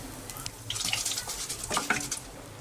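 Mustard seeds, curry leaves and dried red chillies crackle and sizzle in hot oil for sambar tempering, a steady close fizz broken by sharper spits and pops as the leaves go in, with no talking.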